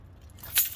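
A short, bright jangle of keys, one quick metallic shake near the end of a brief moment, heard close and alone.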